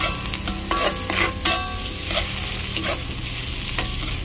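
Chicken sautéing in a pan for chicken with peas, with a steady close sizzle broken by irregular stirring and scraping strokes.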